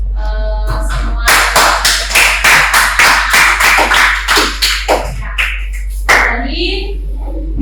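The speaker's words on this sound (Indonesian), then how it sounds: "kita beri aplaus untuk" A group claps together, a loud run of rhythmic applause with sharp regular beats that thins out toward the end, over a low steady hum.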